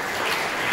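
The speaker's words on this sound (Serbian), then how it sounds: "Aplauz." Brief burst of audience applause at a television awards ceremony, a dense, even wash of clapping lasting under a second with no voices on top.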